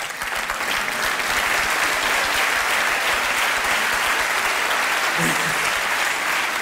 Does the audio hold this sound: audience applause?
yes